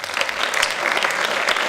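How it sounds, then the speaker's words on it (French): Audience applause at an award ceremony for a gold medal winner, a full, continuous round of clapping from a crowd, close and lively throughout. "J'aimerais un tonnerre d'applaudissements pour cette 2e médaille d'or pour Lubna Bajana."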